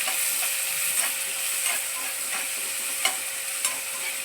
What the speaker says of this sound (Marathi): नंतर आपण कांदा टाकतोय कांदा जरा चांगला परतून घ्यायचा आहे